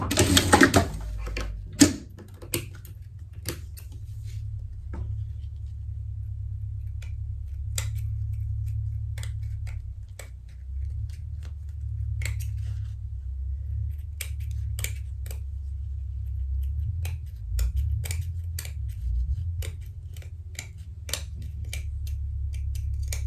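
A sewing machine stitches a safety seam on a shirt, a low steady motor hum running for over twenty seconds, punctuated by scattered sharp clicks and snips from handling the fabric.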